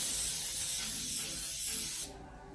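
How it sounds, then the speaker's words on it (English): Cooking spray misted onto a baking pan for cookies: a loud, continuous hiss for about two seconds that stops abruptly, close up and with no talking. "So this is how you spray it. You're going to do a light coat across the whole pan."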